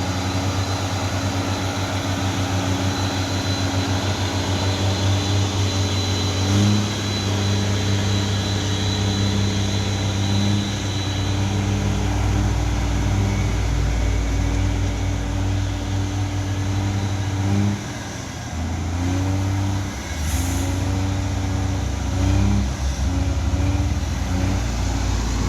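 A truck trailer's diesel engine revving, a loud continuous low rumble with droning harmonics that rise and dip, holding steady close by before easing briefly near the end and returning.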